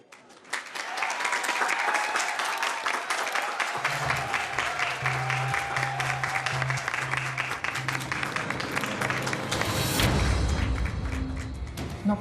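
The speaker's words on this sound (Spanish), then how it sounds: "para quien pido un fuerte aplauso" Loud audience applause from a large crowd in a telenovela scene welcoming a new sponsor, a dense steady clatter of many hands. Deep thumping music enters underneath and swells near the end.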